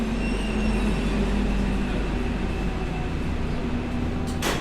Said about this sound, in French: j'étais dans le tout nouveau métro M2